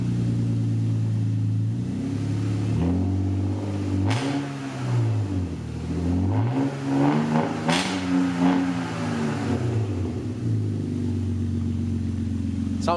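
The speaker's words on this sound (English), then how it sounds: "Give her a rev." Car engine with a newly TIG-welded exhaust revs repeatedly, rising and falling in pitch through several blips with a throaty, rumbling exhaust note, loud and close throughout.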